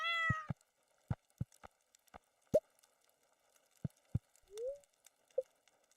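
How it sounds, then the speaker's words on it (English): A cat meows clearly at the start and again later with short calls, amid scattered sharp clicks and taps in a quiet setting. "Hey, kitty."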